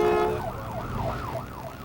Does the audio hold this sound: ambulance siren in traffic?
yes